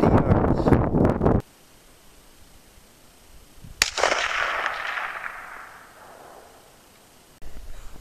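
Romanian AK rifle with a BSA scope firing a Tula 124 grain hollow point at a 250-yard target: one sharp, loud report that rolls out into a long fading echo across open ground.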